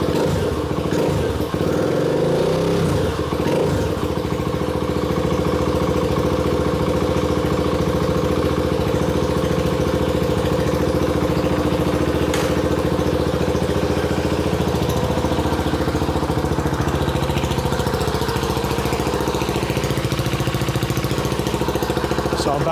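Husqvarna Vitpilen 701 motorcycle with a cheap exhaust mod, engine blipped in a few quick revs early on and then held at a loud, steady idle, close up with no talking.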